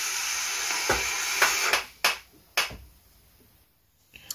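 Vapor blown out from a VandyVape Phobia RDA makes a broad airy hiss that fades away, followed by a few sharp snapping clicks and then near quiet.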